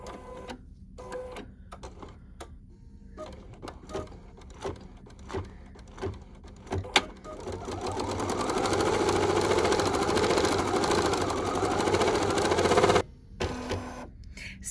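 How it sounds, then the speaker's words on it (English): A computerized embroidery machine stitches lettering in gray thread, a steady mechanical whir and rapid needle clatter building after several scattered clicks and taps, running continuously for several seconds before stopping abruptly. "I'm going to be stitching Life is a Ride in a gray color"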